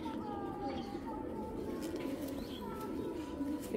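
Soft racing-pigeon cooing in low repeated hums, including a Belgian male, mixed with other birds and someone talking over them.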